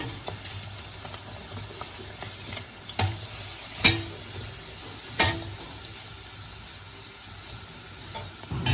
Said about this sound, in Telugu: ఇప్పుడు అన్ని బ్రెడ్ పీసెస్ ని ఈ విధంగా నూనెలో వేపుకున్నానండి.